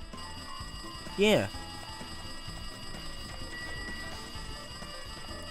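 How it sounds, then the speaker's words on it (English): A lounge telephone rings in Danganronpa 2 with one short, bright electronic burst, like an alarm bell, above a steady game backdrop while a person talks. "It looks like the phone is ringing."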